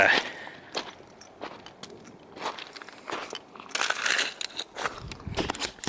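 Ice crunches and cracks underfoot on a backwoods trail near Nanaimo, British Columbia, in a loose series of crisp, close steps with short pauses, growing denser toward the end.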